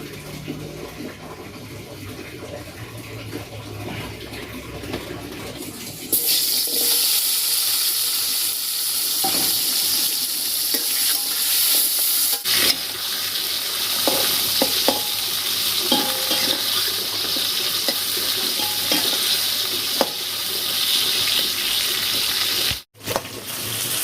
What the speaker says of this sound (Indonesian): Lanjut kita goreng sambal.